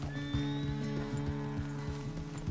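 A horse in Red Dead Redemption 2 gives a loud whinny, then hooves clip-clop in a steady, close rhythm under a sustained tonal background.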